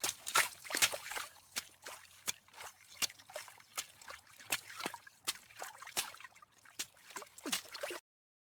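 Water drips from a leaking roof onto the floor of a house, a quiet series of sharp, separate drops landing every fraction of a second to a second in an irregular rhythm, with no voices.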